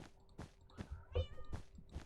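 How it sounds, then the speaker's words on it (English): A Maine Coon cat lets out short, close meows between soft rustles and bumps, with one stronger, drawn-out cry in the middle and no talking. "She mostly only meows when it's dinner time or if she needs the door opening."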